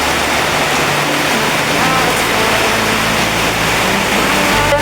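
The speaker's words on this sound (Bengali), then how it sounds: "দেখো কত পানি বৃষ্টি হচ্ছে কেরালায়" Heavy rain in Kerala pours down with rushing running water, a dense, loud, unbroken roar that stays constant throughout.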